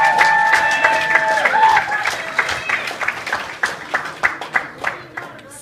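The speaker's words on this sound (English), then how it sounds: "Can we please get a round of applause for them?" Guests at a 21st birthday party give a round of applause for the organizers, clapping and crowd noise building under a fading tonal sound, growing into distinct claps toward the end.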